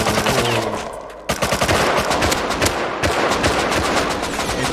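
Loud, continuous automatic gunfire from the game Rust, with a dense rapid burst that briefly cuts out and resumes, followed by steady rattling shots to the end.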